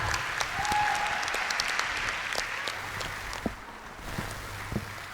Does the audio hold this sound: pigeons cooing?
no